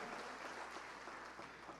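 A church congregation on its feet applauds the Lord during a worship service, a steady, quiet wash of many hands clapping at once that holds evenly for under two seconds, with no voices over it.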